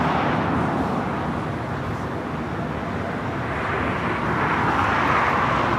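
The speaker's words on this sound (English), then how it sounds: "Lufthansa Queen taking off on the north side" A Lufthansa Boeing 747-8 Intercontinental takes off from the north side at LAX, a broad, steady roar of jet engines carrying at a distance with no voices over it.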